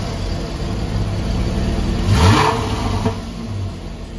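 A Porsche 911 GTS 991.1 with a 3.8-litre naturally aspirated flat-six revs up loudly, rising in pitch to a peak midway before settling back, heard close and alone with a steady road drone beneath.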